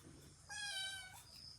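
A cat gives a single drawn-out, high meow, quiet and somewhat distant over low background noise.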